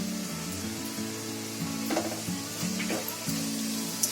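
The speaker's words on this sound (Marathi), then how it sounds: "याचा मसाले सर्व असे ढवळून घ्यायचे" Spices (chilli powder, turmeric, cumin, garam masala and coriander powder) sizzle and fry in a pan for Bombay biryani while being stirred, with scraping strokes and small clinks over a steady close hiss.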